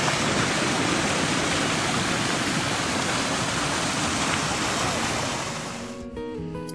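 Water pours and drains beneath a structure at a Georgia state park lake, a loud, continuous broadband rush that holds steady for about six seconds and then cuts off abruptly.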